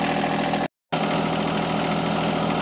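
The engine of a John Deere 2025R compact tractor, set with the hand throttle, idles at a low, steady rumble, with a brief dropout partway through.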